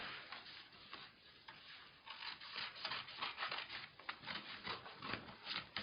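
Scissors snip steadily through fabric as pattern pieces for panties are cut out, a faint, close series of soft crisp cuts and rustles that grows busier halfway through, with no talking.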